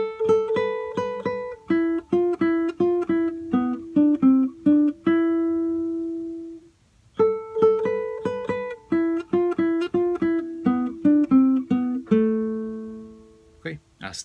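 A full cumbia phrase on guitar, played twice with a brief pause between, each pass a steady run of plucked notes ending on sustained, decaying tones, with no voice over the playing.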